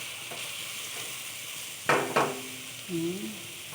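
Australian beef sautéing in a pan, a steady background sizzle broken by two brief scraping stirs and a short voiced sound near the end.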